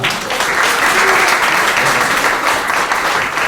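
An audience applauds a gift of a play patch to a young attendee, a steady, dense wash of many hands clapping that stays loud and even for the whole stretch.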